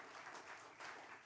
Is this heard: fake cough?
no